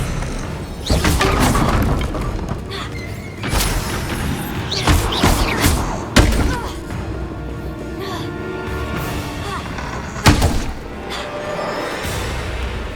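Booming blasting-spell explosions from the Hogwarts Legacy video game, several loud bursts and crashes landing irregularly over a dense bed of combat effects.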